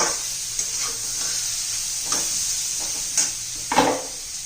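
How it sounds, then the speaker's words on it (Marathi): Spices and turmeric stir-fry in a pan for a spinach and carrot bhaji, giving a soft, steady sizzle with a few brief scraping stirs close by, no voices. "चांगले मसाले पण परतून घेऊया आपण बरोबर"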